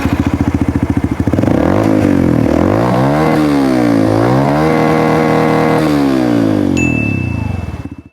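Motorcycle with a standard engine and a full-system CJ Epo Bike two-piece exhaust being revved hard: a loud, close engine rising and falling through several sharp rev sweeps, with a brief ding near the end as the revs drop.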